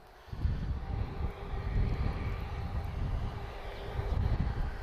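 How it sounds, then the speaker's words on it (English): An Airbus A330-200 jet departs Lisbon Airport, its engines producing a loud, steady roar that swells and holds through the whole stretch with no voices. "we're going to get a departure from an A330-200"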